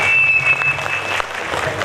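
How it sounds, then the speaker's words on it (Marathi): An audience claps loudly and steadily at a devotional music program with harmonium accompaniment, a dense, continuous burst of applause that fills the room. "यांचं देखील टाळ्या वाजवा."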